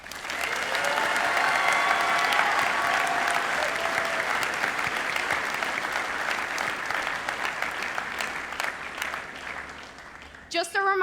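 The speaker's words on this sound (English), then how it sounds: "Let's give Mrs. Tonneson a round of applause for all of her hard work to the foundation and association over the last many years." An audience at the North Dakota FFA State Convention applauds Mrs. Tonneson, a broad, steady wash of clapping that stays loud and full for about ten seconds before thinning out, with voices mixed in under it.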